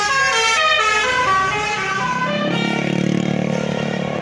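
A tour bus blares its telolet horn, a loud tuneful multi-tone melody of rising and falling notes, while buses head home from Pangandaran, sounding close and continuous over a low engine rumble.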